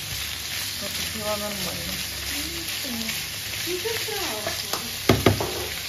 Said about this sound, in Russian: Обжариваем наше мяско.